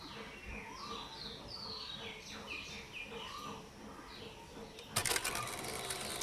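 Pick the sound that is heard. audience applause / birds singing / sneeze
birds singing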